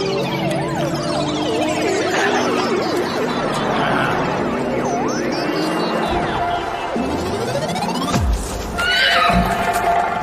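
A horse whinnies repeatedly in a film comedy scene, loud shrill neighs rising and falling close by over busy background sound, followed by a burst of thumping noise.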